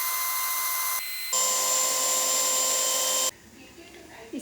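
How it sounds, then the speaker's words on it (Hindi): A food processor whirs loudly while blending eggs for an omelette, steady motor hum that cuts out briefly, then runs again for about two seconds before stopping. "अब हम इसको फूड प्रोसेसर में डालकर अच्छे से ब्लेंड कर लेंगे।"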